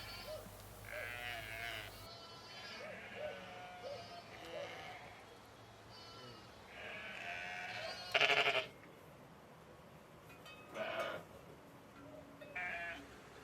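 Several ewes bleat repeatedly at moderate distance on a farm, their wavering calls overlapping, with a few sharp knocks and rustles in the outdoor background.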